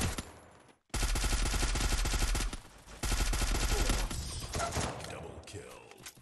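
Rapid automatic gunfire bursts from a 4v4 online shooter match, loud and close, in two long sustained volleys separated by a brief gap, with faint game sounds trailing off at the end.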